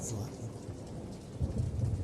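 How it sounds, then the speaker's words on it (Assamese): Heavy rain pours down steadily with low rumbling thunder underneath, swelling louder in the second half. "পাগলী বৰষুণ দিছে চোৱা চোৱা"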